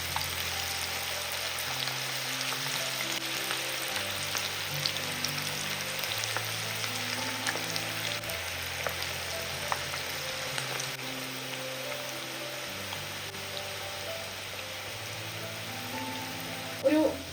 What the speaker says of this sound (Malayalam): ഇനി ചൂടായി കിടക്കുന്ന എണ്ണയിലേക്ക് നമ്മൾ കയ്യിൽ കുറച്ച് ഈ മിക്സ് എടുക്കുക.